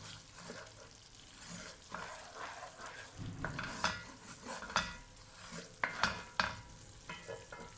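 Masala spice paste fries in separated oil for an egg and potato korma, with continuous sizzling and repeated scraping, stirring strokes of a spoon against the pan.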